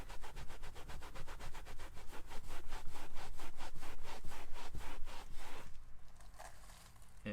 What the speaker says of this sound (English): Bit of good scrub.